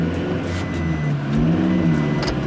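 A 2018 Toyota Revo 2.4 pickup truck with manual transmission revs hard close by in first gear, its deep, rumbling aftermarket exhaust rising and surging over a couple of seconds.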